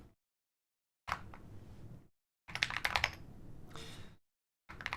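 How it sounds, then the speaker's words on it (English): Bursts of rapid clicking keystrokes on a computer keyboard, close and fairly quiet, separated by short silent pauses, with no talk. "We can still navigate the computer with a keyboard."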